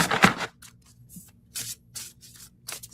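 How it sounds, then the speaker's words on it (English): A deck of tarot or oracle cards is shuffled by hand during a reading, several short papery riffles and slides in irregular bursts, close and fairly quiet. "Sorry, it takes me a while to shuffle."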